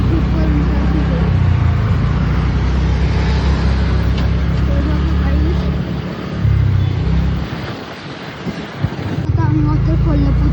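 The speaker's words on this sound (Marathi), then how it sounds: "बघा किती गर्दी आहे इथे. ट्रॅफिक खूप आहे इथे." Heavy traffic crawls along a busy ghat road near Neral, a dense steady rumble of engines with passing vehicles close by. The din dips briefly, then returns, while people talk over it.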